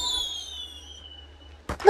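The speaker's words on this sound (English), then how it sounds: "the sky bursts to life. Fireworks frizzle against the backdrop of stars" Fireworks burst in a night sky: a long descending whistle fades out, then a sharp crack and a crackling burst land near the end, fairly loud and close.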